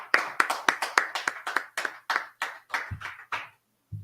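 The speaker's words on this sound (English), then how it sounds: "go ahead and clap it up" Audience clapping in a class gathering: a quick run of about fifteen sharp, evenly spaced claps that slow slightly, then stop, with one soft thump at the end.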